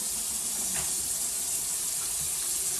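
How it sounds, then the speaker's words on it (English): Cold water runs from a kitchen tap into a sink, a steady, full hiss of flowing water that continues without a break throughout. "we just cool it down with cold water out the tap"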